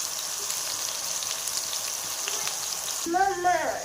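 Kebabs fry in a pan beside a paratha bun burger being cooked over low heat, giving a steady close sizzle that carries through, with a brief stirring clatter near the end.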